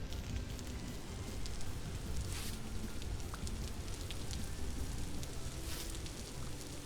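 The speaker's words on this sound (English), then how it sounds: "That's how a lot of Foley artists make rain sounds." Rain in the Vintage Story video game, a dense, even patter much like frying, soft and continuous with no talking.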